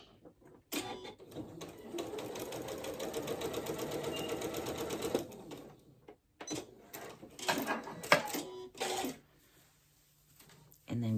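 Home sewing machine stitching elastic into stretched fabric for a top, a rapid mechanical chatter in two bursts separated by a pause, close but fairly quiet, with a few handling clicks and a voice speaking between bursts.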